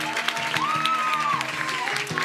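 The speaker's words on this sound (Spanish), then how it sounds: "¡aplauso muy fuerte también, por favor!" A studio audience at a live YouTuber contest show claps and cheers in a dense burst of applause, with a sustained whistle-like tone gliding over the clapping.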